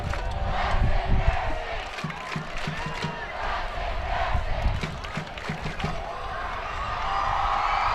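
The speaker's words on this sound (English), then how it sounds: "So these two crowds chirping at one another tonight." Two high school football student sections at Franklin vs Centennial trade chants and shouts across a stadium, a dense roaring crowd with rhythmic yelling, carrying steadily at a distance.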